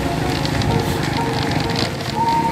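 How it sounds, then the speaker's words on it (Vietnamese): Heavy rain pours at night in a forest beside a lake while camping, a dense, steady hiss that fills the whole stretch without letting up. "Mưa đang nặng lên"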